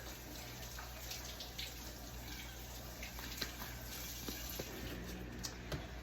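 Tap water runs steadily while fresh eggs are washed at a kitchen sink during meatloaf prep, a continuous soft hiss with faint splashes and a low background hum throughout.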